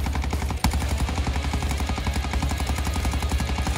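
Rapid automatic gunfire from a Cronen Squall rifle in the video game Warzone 2 rattles continuously. The shots fire in a fast, steady stream, loud and close.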